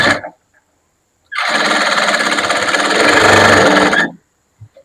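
A sewing machine stitching a blouse runs in one loud, steady burst of about three seconds, a rapid mechanical whir framed by near-silence and a couple of faint clicks.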